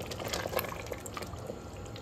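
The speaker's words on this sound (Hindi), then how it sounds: "तो अब हम डालेंगे इसमें थोड़ा सा पानी, आधा कप के करीब" Half a cup of water is poured into mutton korma cooking in a pot, a faint splashing and liquid sizzle with soft bubbling that continues quietly throughout.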